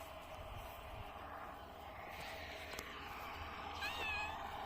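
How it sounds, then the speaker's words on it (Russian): A cat meows near a village garden, a short rising cry near the end over a steady low background hum. "Опять мяу пришел."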